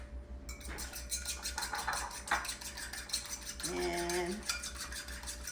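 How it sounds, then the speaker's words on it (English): An egg beaten with a utensil in a dish, rapid rhythmic clicking and scraping strokes repeating steadily at close range, with a faint background hum and one brief word. "I'm gonna beat the egg"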